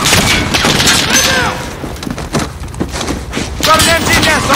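Machine gun fire and explosions in the Call of Duty Modern Warfare campaign, a military shooter: rattling bursts and booms rolling under loud, shouted soldier dialogue throughout.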